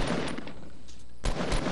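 Gunshots ring out in Fortnite Battle Royale, a loud close volley that fades briefly before another sharp burst of rapid fire near the end, with no talking.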